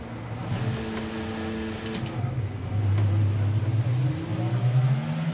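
Race cars pull away from the start grid of a sprint race at Azerbaijan in a racing video game, engines droning and rising steadily in pitch as they accelerate together, loud and continuous throughout.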